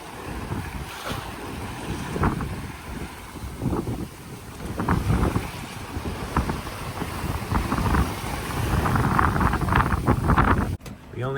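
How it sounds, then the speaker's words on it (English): A sailboat running under full jib across 10 ft seas, with steady wind roar and microphone buffeting over the wash and slap of waves along the hull, continuous and close throughout. "Sailing with the full jib up."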